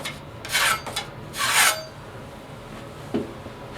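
A 3-inch blade scrapes drywall finish compound along a joint in a basement renovation, two close, loud rasping strokes followed by a small tap.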